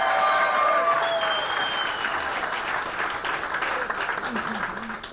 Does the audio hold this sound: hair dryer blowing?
no